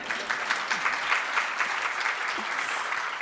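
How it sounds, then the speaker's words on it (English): A room of people applauds Shireen, a community member, at a gathering of Cleveland's Palestinian community, with brisk, dense clapping that stays steady and fairly close throughout. "She deserves a round of applause."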